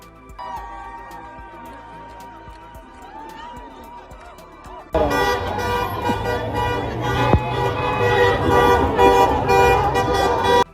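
A busy street scene in Iran during a celebration: quiet at first with a few faint tones, then a sudden loud burst of car horns tooting over engine noise and crowd clamor.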